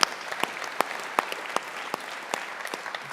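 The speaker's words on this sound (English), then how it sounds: "let's give another round of applause to Shelley and the Event Group" A crowd at an evening fundraising gala for a single-parent scholarship fund claps in a loose, fairly quiet round, with individual sharp claps standing out over a soft wash of applause.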